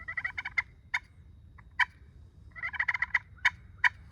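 Sharp, short turkey clucks and cuts from a slate (pot) call imitating a hen, delivered in quick bursts and single notes with brief pauses between, close and clear.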